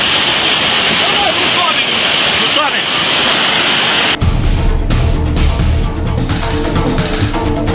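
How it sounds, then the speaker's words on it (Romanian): A flooded stream rushes with a very high flow after a flash flood, a loud broad roar of water throughout, changing sharply midway to a closer, rougher churning with wind buffeting the microphone. "pârâul, care altădată era ușor de traversat, acum s-a transformat într-un râu în toată regula cu un debit foarte mare"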